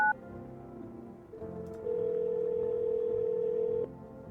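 A steady telephone dial tone from an in-game phone call to a neighbor, preceded by short beeps and a soft shift in tone, holding loud and even for about two seconds before cutting off abruptly.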